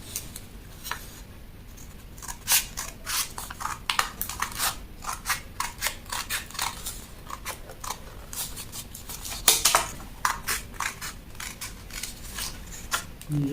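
Scissors snip through paper while a shirt sleeve pattern is cut out, a steady run of crisp, close cuts with short pauses between strokes and no talking.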